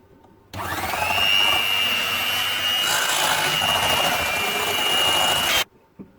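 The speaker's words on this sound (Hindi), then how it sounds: "तो अब हम इसे ब्लेंड करते हैं। हमने फ्रिज से निकाला है, इसे हम आधे मिनट के लिए ब्लेंड करते हैं।" Kitchen blender whirring through a chilled custard vanilla ice cream mixture, switched on abruptly into a loud steady high-pitched motor whine that holds for about five seconds before cutting off, with no voices.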